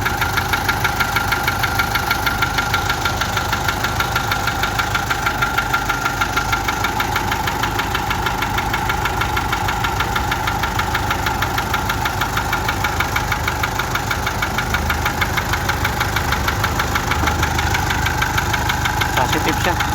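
A pickup's 4M41 engine idles loudly up close with a steady, rhythmic knocking from a loose piston beating through the running motor.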